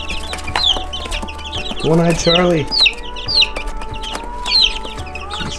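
Chickens cluck and chirp close by in a busy, irregular run of calls, with one louder, drawn-out squawk in the middle. A person speaks briefly over the birds.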